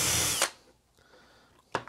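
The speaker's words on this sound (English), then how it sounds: "I'm going to drill a hole on either side of this coax" A power drill whines loudly at close range drilling a hole beside a coax cable, stops, then starts again in a short burst after a moment of near silence.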